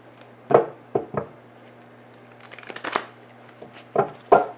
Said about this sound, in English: Let's get some shuffles in.